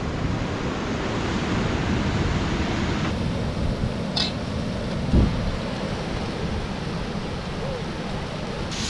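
Steady surf washes continuously onto the beach at Paradise Bay, a broad, even roar with no voices, broken only by a couple of brief knocks.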